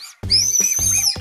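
A shrill, steady whistle blown through a Japanese whistle-shaped candy, one sustained high note with breathy puffs at its start and finish.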